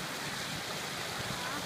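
Small waterfall on a little river in the Blefjell hills, a constant close rushing wash of water with no breaks, loud and steady throughout.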